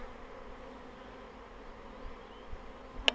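Honeybees buzz around an opened beehive while a super is being checked, a soft, steady hum from many insects with a faint passing drone and a brief louder buzz or tap at the very end.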